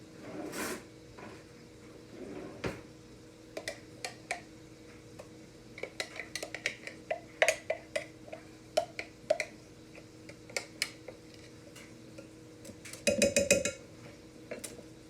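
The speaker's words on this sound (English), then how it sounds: "we're going to add this mixture into our bowl" A spoon scoops a lentil mixture into a bowl, making scattered metallic taps and clinks of cutlery against dishware. The scrapes are close and irregular, with a quick cluster of rattling clicks near the end. No voices.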